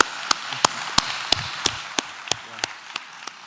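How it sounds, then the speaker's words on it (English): Sharp, single hand claps repeat at a steady, fairly quick pace, about ten in a row, crisp and close over a soft background hiss. "I will clap."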